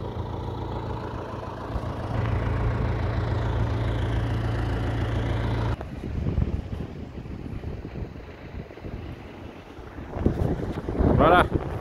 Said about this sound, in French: il fait vraiment beaucoup de vent